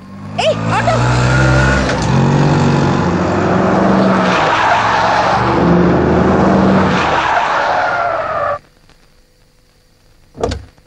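An auto rickshaw drives up on a street, its loud engine and tire noise running for about eight seconds before cutting off abruptly, followed by a short sharp sound near the end amid film soundtrack.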